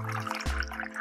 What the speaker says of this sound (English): finally pour in the milk